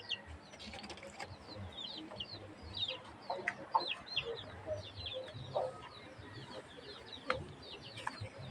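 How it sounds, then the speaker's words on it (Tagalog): Basilan chicken chicks peep continuously in a busy coop, high chirps scattered across the whole stretch with a steady low background hum and occasional clucks. "6 din yan na sisiw. Mga basilan yan guys, basilan."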